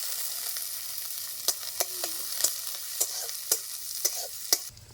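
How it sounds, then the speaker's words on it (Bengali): Onion, garlic, dried and green chilies frying in hot mustard oil, a steady bright sizzle broken by several sharp scraping clicks of a spoon stirring the pan, close and without speech. "পেঁয়াজটা ভাজা ভাজা হয়ে আসছে"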